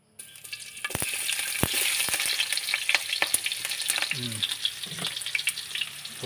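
Spices sizzling and crackling in hot cooking oil for ginisang libgos, a steady bright frying hiss with scattered pops and a few soft utensil knocks, close and continuous with no talking.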